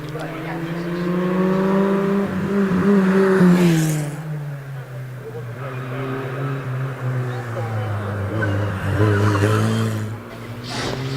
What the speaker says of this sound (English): David Owen meanwhile in the Merlin Mark II on his way up the hill.